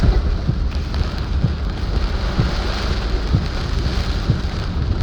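Heavy rain pours down in Chicago, Illinois, a dense, steady roar of downpour with gusty wind buffeting and low rumble, heard continuously from inside a moving vehicle with no talk.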